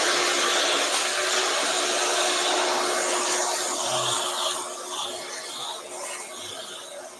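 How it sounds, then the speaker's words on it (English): A vacuum cleaner runs with a continuous broadband whoosh, holding steady at first and then dropping slightly in level toward the end, with no other sounds over it. "see how loud the vacuum is"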